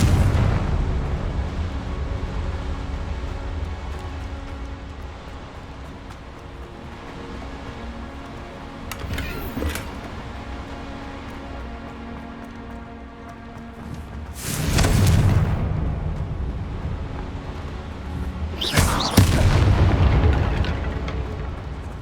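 Confringo spell explosions from the video game Hogwarts Legacy: three sharp, booming blasts bursting out over a steady background of game music and ambience, each explosion loud and short.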